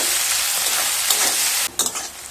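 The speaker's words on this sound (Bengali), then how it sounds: "এবার পেঁয়াজটাকে খুব ভালোভাবে ভেজে নেব" Six large chopped onions frying with salt in a pan, a loud steady sizzle with stirring scrapes, briefly dipping near the end.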